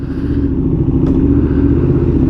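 A motorcycle on a test ride gives a loud, steady, close engine drone with a deep rumble and a faint rattle throughout, and no voices.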